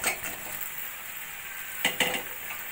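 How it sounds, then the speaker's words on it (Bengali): Boiled potatoes being stirred into spices in a frying pan, a soft sizzle under quiet scraping and a couple of light clinks of a utensil against the pan. "আলুগুলো ভালো করে মশলার সঙ্গে 2-3 মিনিট মতো কষিয়ে নেব।"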